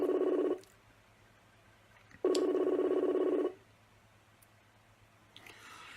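A phone ringback tone buzzes twice with a pause between rings, steady and moderately loud, followed by a faint click and rustle.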